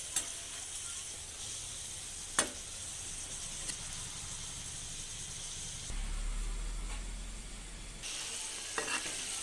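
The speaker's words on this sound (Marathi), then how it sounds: "ही भाजी अत्यंत बारीक असल्यामुळे आपल्याला झाकण न लावता मंद आचेवरच गॅसवर होऊ द्यायची आहे" Finely chopped fenugreek leaves (methi bhaji) cook uncovered in a pan over a low gas flame, giving a soft, steady sizzle with a few light clicks and scrapes.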